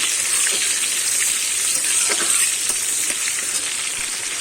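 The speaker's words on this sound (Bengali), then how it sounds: "এবারে দেব কেটে রাখা টমেটোটা আমি একটু ভেজে নেব।" Chopped tomato frying in a hot pan with tempered spices for a potol dorma, a loud, dense, continuous sizzle up close with a few faint clicks and stirs.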